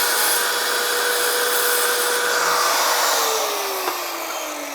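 Power saw cutting through ceramic tile for a backsplash, a loud steady whining grind with a high motor tone that drops in pitch toward the end as the blade loads, heard alone and close.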